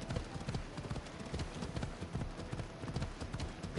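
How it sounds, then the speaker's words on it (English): Hooves of a hellfire horse clip-clop in a video game, a quick, steady rhythm of close, soft thuds running throughout at low level with no speech over it. "I rode on a hellfire horse"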